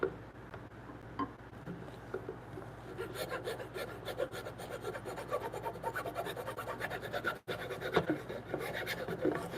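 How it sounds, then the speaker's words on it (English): A rasp files the edges of wooden timber frame posts for a bunk bed, steady close rubbing strokes scraping along the grain with a brief pause near the end. "I like to file them and sometimes even sand them a little, kind of bevel the outsides of them"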